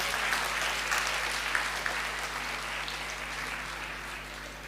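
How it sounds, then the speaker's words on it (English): Applause for graduates of the 2023 class at a graduation ceremony, a steady, even wash of many hands clapping that carries through the whole stretch at moderate loudness over a faint low hum. "A big round of applause for all the graduates of class batch 2023."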